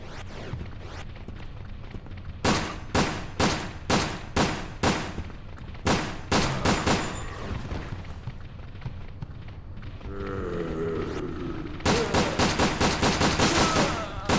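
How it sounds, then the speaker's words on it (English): Gunshots in Resident Evil: Dead Aim (2003), sharp evenly spaced pistol reports in a steady run, a short pause with a mechanical whir, then a fast final burst of shots, loud and close. "I went guns a-blazing there. 6 shots."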